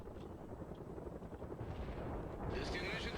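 Artillery rumbles in the World in Conflict strategy game, a dense low thunder of distant blasts layered with combat noise, steady and loud, followed by a brighter burst near the end.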